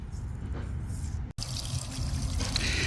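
Water and loose sediment pour steadily from a drained water heater, a continuous close splashing gush with a brief cutoff midway before it resumes.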